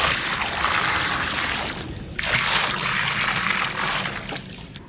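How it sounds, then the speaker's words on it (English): Dissolved dry acid pH reducer solution poured along the edge of a swimming pool's deep end, a steady close splashing gush of liquid running almost continuously with a brief dip midway. "I'm going to go ahead and pour it along the perimeter of the deep end."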